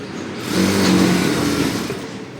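A sewing machine runs in one continuous stitching burst on a blouse, a steady close whirring hum that swells slightly and then eases.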